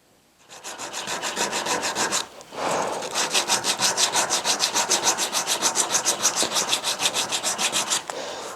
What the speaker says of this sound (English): do a light sanding